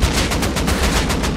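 Rapid automatic gunfire in a Rust PvP fight on PS5, a dense steady burst of close, loud shots with no pauses.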